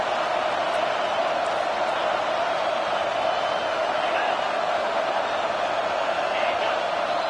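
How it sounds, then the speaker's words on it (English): Continuous loud roar of a home stadium crowd cheering in the College Football 25 video game, a dense, unbroken wash of noise with muffled voices beneath. "how nice is it to have the home crowd going absolutely bananas?"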